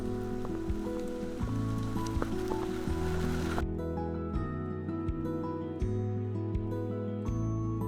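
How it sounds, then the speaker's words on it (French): Heavy rain pours down steadily in a continuous dense hiss, with a broadband wash that drops away partway through while low rumbling sounds continue beneath. "il pleut à torrent"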